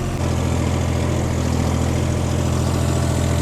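A John Deere 5105 tractor engine runs at a steady 1700 rpm, close and loud, with a constant low, rhythmic diesel throb. No one speaks over it.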